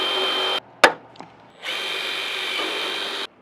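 A fastener being set into the handmade corner of a sheet-metal box gutter, with two bursts of steady power-tool whirring around a brief sharp snap, close and loud.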